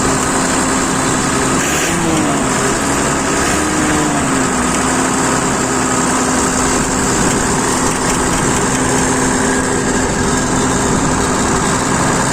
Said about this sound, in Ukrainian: Моторчик робить.